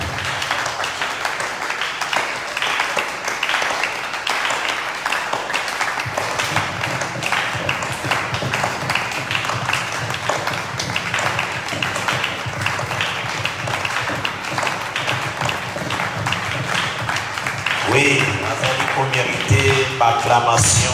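A church assembly claps and cheers in acclamation during a worship service, a sustained dense crowd of hands beating steadily for twenty seconds, with voices mixed in and a brief shift in texture near the end.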